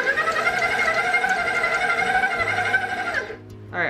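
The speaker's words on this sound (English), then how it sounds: "I think that's enough from the mixer." An electric mixer beats cookie dough with flour and chocolate chips, giving a steady whirring hum with a harmonic whine that runs for about three seconds, then winds down and stops.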